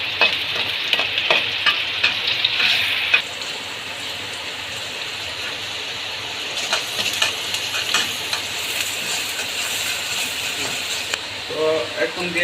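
Chopped onions fry in hot oil in a wok with a loud, steady sizzle and crackle that runs the whole time, swelling in bursts as they are stirred.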